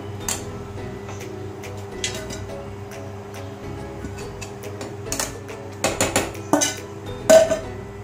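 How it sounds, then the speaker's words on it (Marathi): A metal lid is set onto a cooking pot of veg kurma with several sharp clanks and clinks, close by, over faint background hum and no speech. "आपण यावरती झाकण ठेवू"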